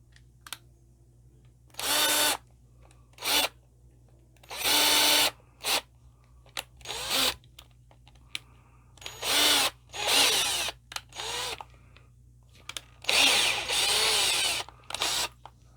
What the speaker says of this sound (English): Probably drill the back out of this real fast.